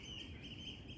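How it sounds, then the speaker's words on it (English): Birds call outside, faint and distant, a steady high chirping chatter over quiet background noise. "Oh, the birds are doing some weird shit."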